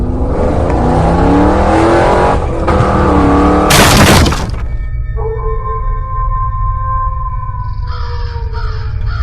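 A cartoon motorbike sound effect speeds past with a loud, rising whoosh and engine rush that cuts off abruptly, followed by quieter tonal effects.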